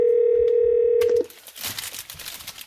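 A Yealink T54W desk phone emits a steady electronic tone for about a second as an intercom page button is pressed, then the tone cuts off abruptly, leaving faint handling and rustling noise.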